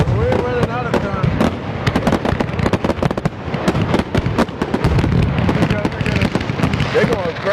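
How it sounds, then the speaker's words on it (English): Fireworks burst in rapid, loud succession at a birthday celebration, dense overlapping bangs and crackles filling the air with whistling streaks between them, while people talk over the barrage. "And these fireworks been going on for a long time."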